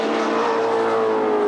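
A BMW M3 GTR race car at Hampton Downs in New Zealand produces a loud, steady engine note, a close, sustained drone held briefly with no talk over it.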